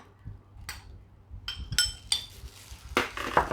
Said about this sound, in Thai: โขลกให้ข้าพอแหลกนะคะ